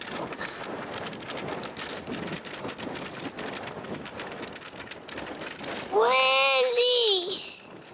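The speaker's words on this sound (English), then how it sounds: "Windy." Wind gusts buffet outdoors on a cotton farm, a rough broadband rush with fluctuating strength, followed near the end by a short tonal voice-like sound.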